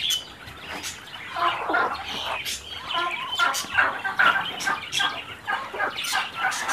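Muscovy ducks call in a busy, overlapping run of short, rough cries that carries on steadily without pause, fairly close and moderately loud.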